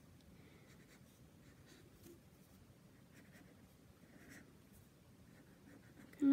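A pencil scratches across paper while a puppy is drawn, a faint, close, continuous soft scribbling with short strokes in a quiet room.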